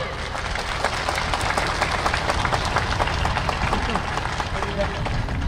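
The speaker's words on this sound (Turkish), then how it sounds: "hepinizden Ümit Başkan'ın ve o 8 kişilik kendisiyle birlikte 9 kişilik vizyoner ekibi için çok güçlü bir alkış istiyorum" A large crowd applauds steadily at a municipal event in Tefenni, Turkey, dense clapping sustained throughout with a faint murmur of voices underneath.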